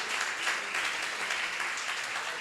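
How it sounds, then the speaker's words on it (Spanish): Steady applause from a church congregation at an anniversary service, a dense even patter of many hands filling the space with no speech over it. "Denle un fuerte aplauso al Señor."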